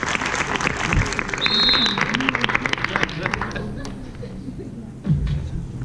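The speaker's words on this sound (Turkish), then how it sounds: "O zaman alkışlarla Özer'i içeri davet ediyoruz." Applause from a theater audience welcoming a performer onstage at an improvisational theater-sports show during a festival, steady clapping that fades after a few seconds, with voices mixed in and a thump near the end.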